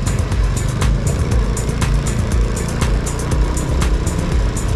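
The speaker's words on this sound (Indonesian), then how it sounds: "lihat bermobil-mobil yang datang ke Jalan Cikajang ini teman-teman" Cars and motorbikes pass in dense traffic along Jalan Cikajang, a busy street in Bandung, making a loud, continuous close roar of engines with repeated ticking and rattling and no speech.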